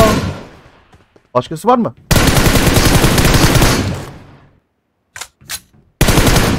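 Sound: gunfire in PUBG Mobile video game

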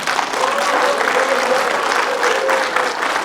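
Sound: audience applause at a political rally

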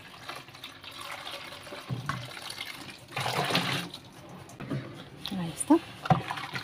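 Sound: water poured in to rinse a tub

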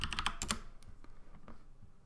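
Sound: typing a password on a computer keyboard

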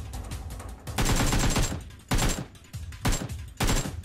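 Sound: gunfire in PUBG Mobile video game

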